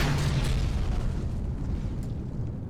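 Rocket engine igniting at launch in Kerbal Space Program: a loud, steady, broadband roar and rumble that holds continuously throughout, fading only slightly toward the end, with no voices.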